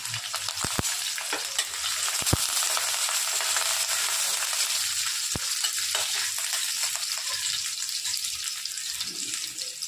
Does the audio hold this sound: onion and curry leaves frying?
yes